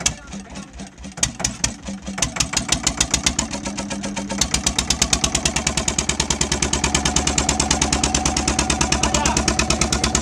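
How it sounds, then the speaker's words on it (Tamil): A boat engine near a lighthouse cranks and catches, then settles into a loud, rapid, evenly thumping idle close by, with someone talking over it at the start. "போட்டு இன்ஜின் இப்போ தான் ஸ்டார்ட் பண்ணுறா"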